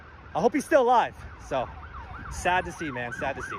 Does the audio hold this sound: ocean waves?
no